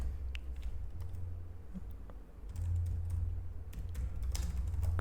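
Fingers type steadily on a computer keyboard while entering invoice details in an Excel spreadsheet, producing a close, irregular stream of soft key clicks with occasional louder taps and no talking.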